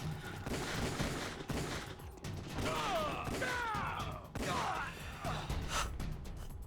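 Gunfire in Metal Gear Solid: The Twin Snakes comes as a dense volley of shots mixed with mechanical game effects and a few gasping vocal sounds. It is fairly loud and continuous, with a short break partway through.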